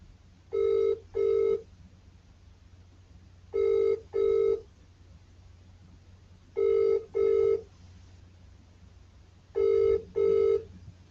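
Four paired bursts of a telephone ringback tone on an outgoing call to a homeless support service, evenly spaced with quiet line hiss between rings.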